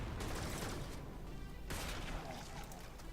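Gunfire in the video game Warframe, rapid crackling bursts of automatic fire with a brief gap midway, heard against a dense, noisy game soundscape.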